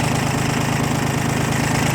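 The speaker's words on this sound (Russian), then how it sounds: "Двигатель работает ровно, обороты держатся." A Yanmar F14D mini tractor's small diesel engine runs at a steady idle, a loud, even chugging rumble with no talking.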